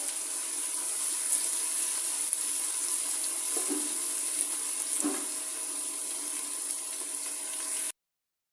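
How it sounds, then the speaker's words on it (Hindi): Garlic paste frying with onions in a pan for mutton karahi gives a steady, close hiss of hot oil, continuous and even throughout, with a couple of faint knocks and no talking. "अब मैं इसमें डालूँगी लहसुन का पेस्ट और लहसुन को भी फ्राई करना है।"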